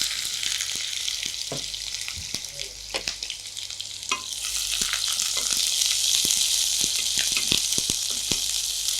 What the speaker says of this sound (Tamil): இப்போ முதல்ல நான் சேர்க்க போகிறது வெங்காயம்.